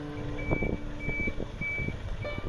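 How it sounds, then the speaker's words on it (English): A truck's reversing alarm beeps steadily at even intervals over a loud, rumbling engine idle. "he drives the recycling truck to Dolio Tzu Chi Hospital"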